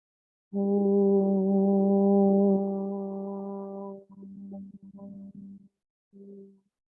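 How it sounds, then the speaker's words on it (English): A group chanting a long, steady low Om, sustained for several seconds, then a few shorter broken tones and a final brief hum. "we'll open officially with the sound of Om"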